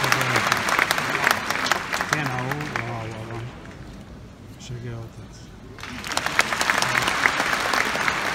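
An audience applauds at a concert in Tel Aviv, a dense wash of clapping that runs under someone speaking, dips briefly, then surges again.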